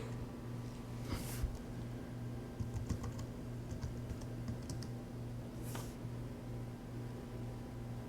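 Keys tapped on a computer keyboard in quiet, faint bursts of clicks with pauses, over a low steady hum from nearby electronics.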